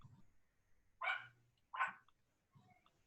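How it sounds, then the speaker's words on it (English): Small Yorkshire Terriers yap in two sharp, high barks about a second apart, moderately close, with quieter low rumbling between and after, no talk over them. "Somebody got some yappy dogs?"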